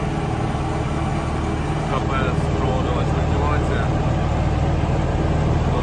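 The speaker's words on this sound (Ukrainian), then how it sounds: "трактору тут тяжкувато, дві провалюються, глибоко тут закультивірували" Tractor engine laboring under load while sowing sunflower with fertilizer in a deeply cultivated, uneven field, a steady heavy drone throughout, with someone speaking briefly over it.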